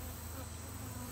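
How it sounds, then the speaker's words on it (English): Honeybees swarming around a sugar water feeder during mass feeding, a dense continuous buzz of many wings heard close up and alone. "other bees are going to get to that sugar water too"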